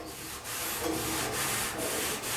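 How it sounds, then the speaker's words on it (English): A wet rag rubs back and forth over a rusted steel body panel on a budget rat truck build, giving steady close scrubbing strokes with short pauses between passes, and no talk. "if I wipe this off with a wet rag, what it'll look like"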